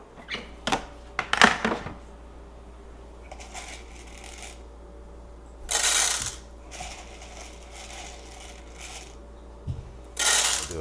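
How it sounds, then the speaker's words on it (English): Coffee beans from a hopper rattling into a super-automatic espresso machine, several short clattering pours and bursts spread across a quiet room with a steady low hum underneath. "I'm gonna take some beans from this hopper and put it into the super auto"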